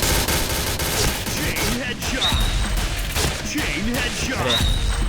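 In a video game, a Pindad SS3 rifle fires rapid, continuous bursts of gunfire with sharp impacts, loud and dense throughout, while a voice talks over it.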